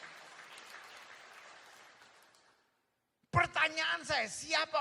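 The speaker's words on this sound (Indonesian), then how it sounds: "Berikan tepuk tangan yang meriah buat saya." Church congregation applause during a sermon, moderate clapping that fades out over a couple of seconds, followed by a brief silence and then someone speaking loudly.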